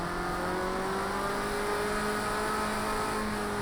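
A rally car in Project Cars 2 drifts with its engine held at a steady high drone and a faint tire-scrubbing hiss running underneath, loud and continuous throughout.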